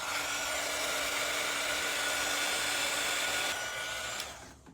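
A heat gun blowing hot air over resin on a stenciled picture frame, a steady close whirring hiss that runs unbroken for several seconds before shutting off, with no speech.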